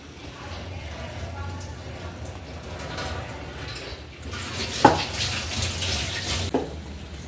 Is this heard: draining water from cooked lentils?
yes